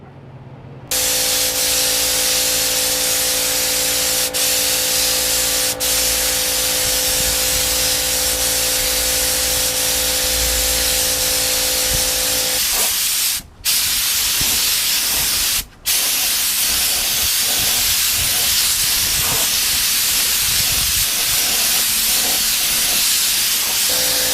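Spray painting motorcycle parts gold, a loud, steady close-up hiss of the spray gun lasting over twenty seconds, broken by two brief pauses.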